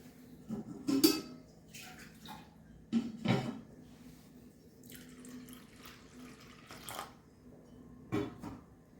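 Water poured from a glass into chana dal in a steel container for a pressure cooker, several short splashing pours separated by pauses, with faint clinks of utensils in a quiet kitchen.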